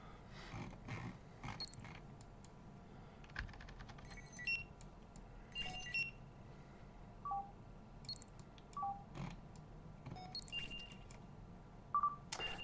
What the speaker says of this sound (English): There's a separate mod that makes the probe cores beep.